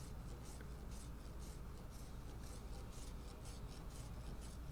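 A rasp scraping across a carbon fiber Les Paul guitar body during reshaping, a steady continuous abrasive rasping with regular strokes close up, no talking.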